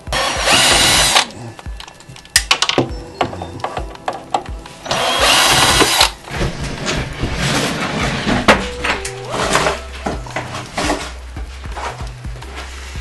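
A power drill unscrews the fasteners at the back of a bathroom vanity top during an Ottawa bathroom renovation. Repeated loud, close whirring bursts of several seconds each alternate with clicks and rattling between them.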